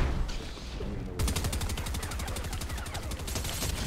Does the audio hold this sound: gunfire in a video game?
yes